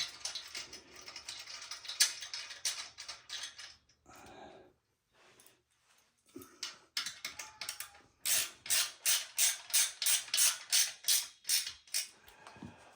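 A ratchet wrench tightens a bolt while a rear shock is fitted to a motorcycle, rapid clicking runs broken by pauses and then a loud, rhythmic series of ratchet strokes close by.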